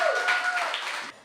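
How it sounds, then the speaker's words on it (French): Audience applause at a Flemish-African cultural house's tenth-anniversary celebration: a brief, dense wash of clapping from a crowd that starts at full strength and trails off after about a second, with a voice faintly audible over it. "Déjà, un applaudissement pour Aline, ses collègues et tous les bénévoles qui font de ce lieu vraiment un lieu magnifique."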